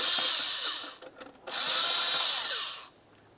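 Close whine of a power driver loosening an 8mm clamp on a Dodge Ram 2500 air box, two sustained runs separated by a brief pause, then quiet.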